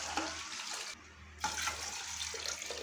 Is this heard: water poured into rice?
yes